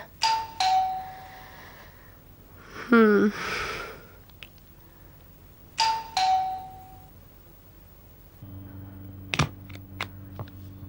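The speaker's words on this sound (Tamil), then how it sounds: "ஏன் இப்படி காலிங் பெல் அடிச்சிட்டு இருக்காங்க" A doorbell chimes two-tone several times, with a voice briefly in between, then a steady electronic hum and a few sharp clicks.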